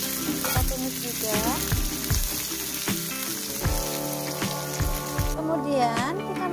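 Chopped spring onions hit a hot pan with a fried aromatic paste and are stir-fried, giving a steady crackling sizzle with bursts of spatula scraping and stirring, while someone talks over the cooking.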